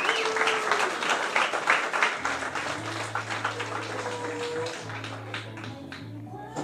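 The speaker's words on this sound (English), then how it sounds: "Give them a big round of applause." Guests applaud sponsors at a wedding celebration, a steady round of clapping with a low hum running underneath and faint voices scattered through it.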